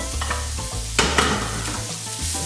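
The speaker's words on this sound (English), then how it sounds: "You want to hear that sizzle." Onions and garlic sizzle steadily in hot oil in a pan for paella, a close, continuous frying crackle with a couple of brief stirring scrapes and no talk.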